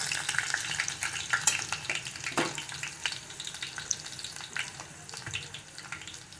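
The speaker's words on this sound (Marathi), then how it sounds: "थोडासा त्याला ब्राऊन होऊ देऊया आपण, थोडा परतूया तेल।" Chopped garlic sautéing in hot oil in a pan, browning: a steady, close sizzle with occasional crackles and stirring scrapes, no voices.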